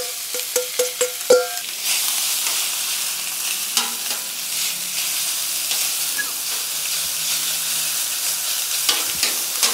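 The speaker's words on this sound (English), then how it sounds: "this is just shredded up bacon with the Pegasus rub. And on she goes." Shredded bacon coated in Pegasus rub hits a hot griddle for a smash burger, a few sharp clanks of a utensil up front, then a loud, steady sizzle that crackles on without talk.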